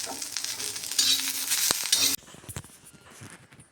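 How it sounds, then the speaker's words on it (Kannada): Peanuts being roasted and stirred in a pan, a close, loud dry rattling and scraping with faint sizzle that drops abruptly into softer, sparse stirring scrapes and clicks, no voices. "ಶೇಂಗಾ ಹುರಿತಾ ಇದ್ದೇನೆ"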